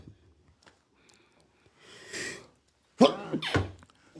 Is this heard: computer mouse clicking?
no